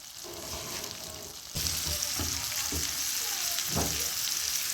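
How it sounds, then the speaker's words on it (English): A chicken breast stuffed with spinach, mushroom and cheese sizzles in a frying pan; the frying jumps louder as it is turned, and a steady hiss continues with a few soft clanks from the pan. "I'm turning it, I'm frying it so as you can see."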